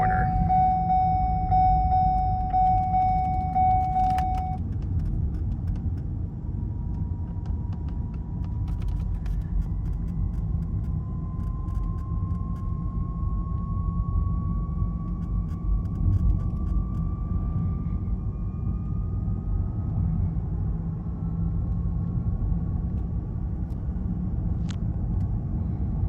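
A 2012 Ford Fusion hybrid drives along at speed and accelerates, giving a steady low road rumble with a faint rising whine that climbs gradually throughout, heard from inside the car without talk.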